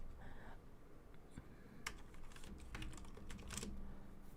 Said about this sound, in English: let's click some buttons here